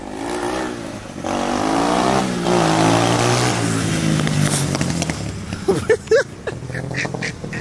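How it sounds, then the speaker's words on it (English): A car engine revs and roars loudly for several seconds, swelling then easing off, followed by a few sharp choppy bursts near the end, with no voices. "Yo, watch this car."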